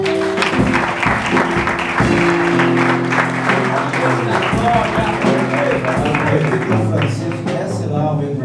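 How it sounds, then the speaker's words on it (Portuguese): A church congregation applauding and cheering for the Lord during a service, sustained clapping beneath loud, held musical tones and voices, dense and close throughout. "Uma salva de palmas para o Senhor."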